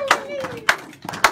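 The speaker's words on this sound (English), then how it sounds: "let's clap hands for them" A church outreach crowd in Pretoria claps hands in a few scattered bursts while a voice speaks over the clapping.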